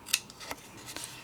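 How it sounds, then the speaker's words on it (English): Scissors snipping through scored paper while trimming a large die-cut treat holder, a few short crisp cuts close by, the first the sharpest, in an otherwise quiet room. "I'm going to just cut into here and get rid of this."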